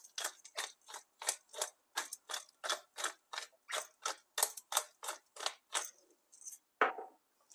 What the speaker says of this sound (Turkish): karabiber çekmek istiyorum